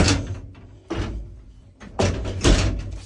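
Door of a Balkan elevator sliding shut, heard as a few separate close thuds and rumbling slides with quiet stretches between them.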